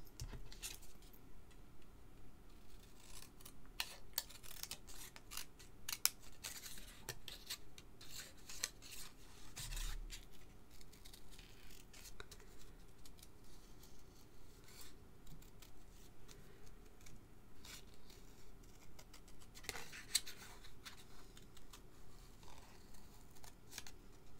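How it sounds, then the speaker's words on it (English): Small scissors fussy-cut a paper sentiment for a handmade card, producing quiet, scattered snips and soft clicks over a long stretch, faint and close with no speech. "whilst I fussy cut my sentiment out"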